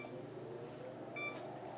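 A kitchen timer gives a couple of short, thin electronic beeps as it is set for baking cookies, faint and brief over quiet kitchen room noise.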